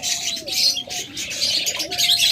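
Pigeons offered for sale coo softly close by, their low repeated calls running under a steady hiss of background noise with no talking.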